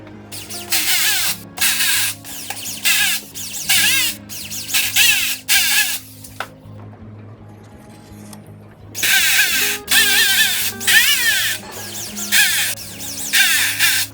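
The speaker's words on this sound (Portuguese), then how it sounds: "Na minha parafusadeira, eu já fiz o teste na madeira para que não espane e dê aperto o parafuso." A cordless screwdriver set to torque 6 drives screws into wood for a storage chest, giving several short loud whirring bursts in quick succession, a quieter pause, then more bursts.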